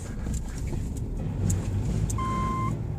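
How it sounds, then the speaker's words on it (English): A 2009 Subaru Outback with a manual transmission labors in deep, wet snow, its engine giving a low rumbling drone before a short, steady electronic beep sounds near the end. "Oh, stalled again."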